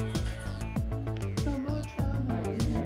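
Domestic cat meowing repeatedly in a home, a run of close, clear mews in quick succession that sit close to a voice calling to it.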